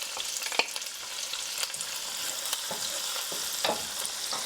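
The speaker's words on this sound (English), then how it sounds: "Okay, let's add the garlic now." Garlic for ciambotta sizzles in a pan, a close, steady frying hiss broken by a few sharp crackles and stirring clicks, with no one talking.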